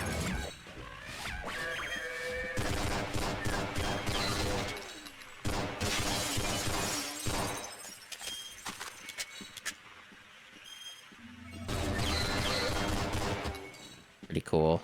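Gunshots in Brutal Half-Life, a gory mod of the classic shooter, cracking out in several loud bursts and volleys mixed with game music and impact clatter, with quiet stretches in between.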